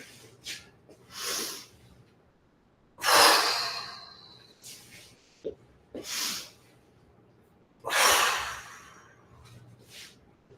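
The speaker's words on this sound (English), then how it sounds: "A big open mouth exhale." Long breathy open-mouth exhales from a qigong class, several loud airy gusts rising and fading a few seconds apart, with softer breaths and quiet gaps in between.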